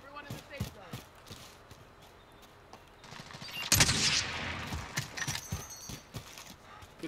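Gunfire in Call of Duty Warzone: scattered shots give way to a loud, dense volley midway that rings on briefly, with voices talking faintly underneath.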